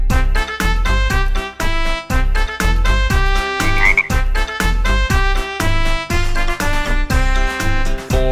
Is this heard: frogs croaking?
yes